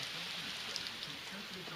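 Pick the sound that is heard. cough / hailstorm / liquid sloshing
hailstorm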